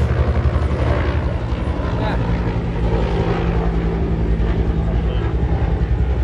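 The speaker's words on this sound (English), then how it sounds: "Oh God, there are like tons of helicopters flying around." Helicopters flying overhead, a dense continuous rotor rumble and drone filling the air with no break, heard outdoors at steady loudness while a person talks underneath.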